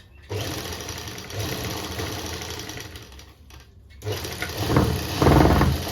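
A sewing machine stitching a salwar with buckram attached, whirring close and steady with brief pauses and mechanical rattles, ending with a louder, heavier run.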